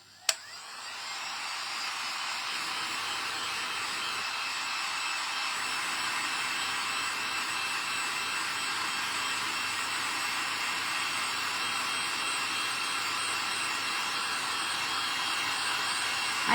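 Steady, continuous whoosh of a handheld dryer blowing over wet paint on a whimsical snowman painting, starting with a click and holding a constant loud roar throughout.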